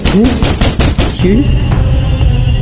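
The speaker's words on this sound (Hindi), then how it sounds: "दरवाजा कौन बजा रहा है?" Rapid, loud knocking on a door at night, with a burst of sharp raps that fade into a steady low background hum.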